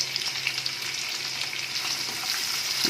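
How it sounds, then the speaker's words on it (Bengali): Onions fry in a hot pan, a close, steady crackling sizzle with light stirring, continuous and alone without speech. "ভেজে নেবো, একটা সুন্দর ফ্লেভার আসবে। এবার আমি পেঁয়াজগুলো দিয়ে দিলাম"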